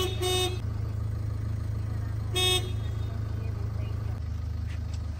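Two short horn blasts sound a couple of seconds apart over a steady low engine rumble.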